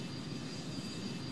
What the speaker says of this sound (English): Full reverse thrusters, full air brake.